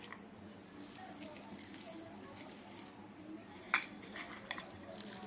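Onion, green chili and konal saag are mixed together in a bowl, faint soft squishing and occasional clinks of utensil against the dish, with one sharper knock near the end.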